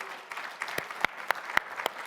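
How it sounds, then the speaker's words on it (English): Audience applause at a large religious freedom summit, sparse individual claps standing out over a soft crowd murmur, moderately close and fairly light, with no talking. "Yes, give yourself a round of applause."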